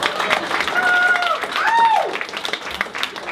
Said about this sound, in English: And also a big round of applause, of course,